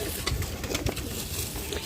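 Pigeons coo in soft, low repeated calls at a breeding setup, with the cooing steady under a noisy, close background.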